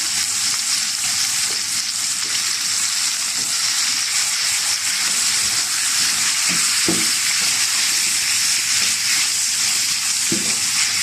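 Liver sizzling and frying in a pan as vinegar is added, a dense continuous crackle with occasional stirring knocks, close and steady with no talk.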